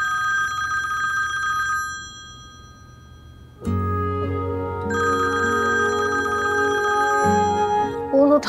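A telephone rings on and on with no one picking up, its bell-like tone sounding in repeated bursts with short gaps between them, fairly loud and close, with no voices over it.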